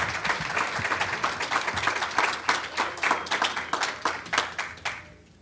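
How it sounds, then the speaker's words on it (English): An audience at a basketball tournament welcome press conference gives a short round of applause, with distinct claps building and then fading out at the end. "Let's give him a round of applause."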